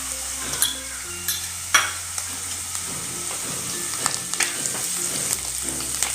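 Green chillies and curry leaves frying in a pan for sago khichdi, a continuous close sizzle with occasional utensil clinks and scrapes as the pan is stirred.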